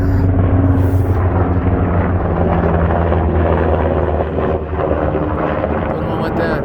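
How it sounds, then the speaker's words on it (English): A helicopter flies low overhead with a loud, steady rotor roar and throbbing chop that fills the whole stretch, heavy and close throughout. "Mr. Helicopter wants to interrupt here."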